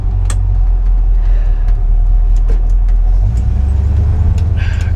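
A 1957 Chevy Bel Air engine runs loud and close as its transmission shifts, steady rumbling with a change in tone partway through and no talking.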